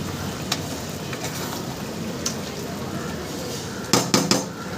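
Mutton being stir-fried with spices in a pot over gentle heat, a soft continuous sizzle with a few scattered clinks and a quick burst of metal utensil scraping and clanking near the end.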